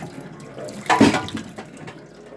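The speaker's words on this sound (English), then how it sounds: "Got the water running." Kitchen tap running into a sink, a steady close splash that swells briefly to a louder gush before easing back to a softer flow.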